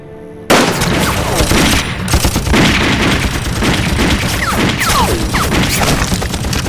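Dense, continuous gunfire rips out from several firing positions in a war drama, a loud, close barrage of overlapping shots and bursts that begins abruptly after a brief quiet moment.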